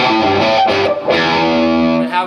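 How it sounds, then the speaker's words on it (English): Electric guitar with mild distortion plays a line from a song, sustained overdriven notes ringing loud and close with rich harmonics and a brief break between phrases. "I have it on a little of the milder distortion, which is pretty heavy for the 70s"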